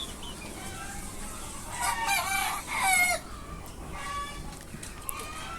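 Desi hens cluck and a large-breed desi rooster crows in a rising, drawn-out call near the middle, with scattered clucks from the flock before and after, set against steady farmyard background noise.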